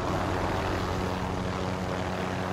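A helicopter in Call of Duty Warzone gives a loud, steady engine drone with a throbbing rotor hum, holding close and even throughout with no speech.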